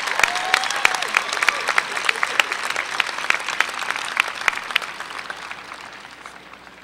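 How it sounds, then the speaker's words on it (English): Audience applause at a university honors convocation, steady and full with many distinct hand claps cutting through, holding for several seconds before gradually fading. "So let's give us a round of applause to all those folks"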